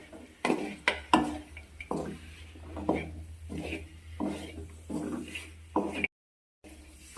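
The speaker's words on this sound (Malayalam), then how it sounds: "ഈ മസാലപ്പൊടികൾ ഈ ചിക്കനിലേക്ക് നന്നായിട്ട് ചേരുന്ന രീതിയിൽ നല്ല രീതിയിൽ ഇളക്കി കൊടുക്കുക" Chicken pieces being stirred with masala powders in a pan over a medium-low flame: a steady series of close scraping strokes, roughly one every half second, as a spoon drags through the thick mixture, with a low hum underneath.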